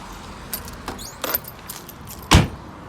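A set of motorhome keys, including the driving key and habitation door key, jangles in a few short metallic bursts, closing with one louder, close clatter; no talk over it.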